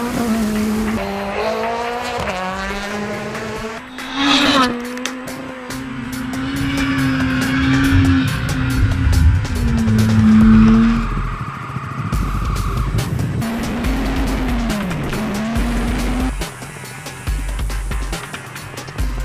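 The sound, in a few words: rally cars racing in South African rally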